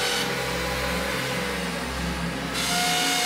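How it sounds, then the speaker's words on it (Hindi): A power drill bores into a wall in a steady, continuous whine with a low rumble underneath, moderately loud and unbroken, with no voices. "ये लोग दीवार में ड्रिल क्यों कर रहे हैं?"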